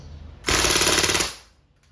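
Crosman A4-P CO2-powered steel-ball airgun firing full automatic: a rapid, loud burst of evenly spaced shots lasting under a second, close and alone, then a quick fade.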